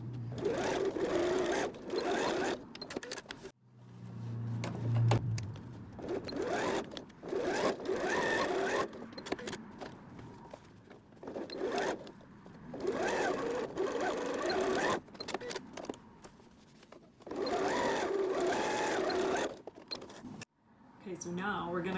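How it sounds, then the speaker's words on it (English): A sewing machine runs close and loud through a seam on a zippered travel bag, in several long bursts that stop and restart for backstitching at each end. A voice talks briefly in a few gaps. "We're just going to sew on the line, back stitching at the beginning and the end."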